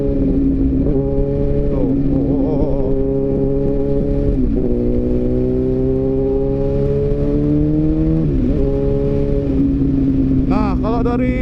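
A Yamaha R1 1000 cc superbike ridden at speed, its engine droning loud and steady with rising pitch sweeps as it accelerates and shifts gears, close to the microphone, with a rider speaking briefly over it.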